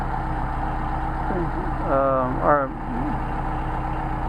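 A Mercedes 190SL engine fitted with Solex carburettors idles close to 1,000 RPM, a steady low hum that stays constant while someone talks over it.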